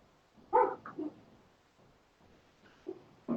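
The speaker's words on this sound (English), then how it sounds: "My puppies are protesting." Puppies give a few short barks and whimpers, faint and spaced apart, with quiet gaps between the brief yelps.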